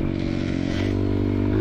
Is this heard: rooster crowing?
no